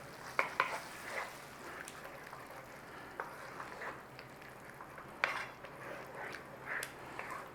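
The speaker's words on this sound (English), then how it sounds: "Give it a stir in." A spoon stirs creamy beef pasta with beef broth and gravy granules in a single pan, giving soft scraping and a faint simmering sizzle that stays quiet throughout with a few light clinks.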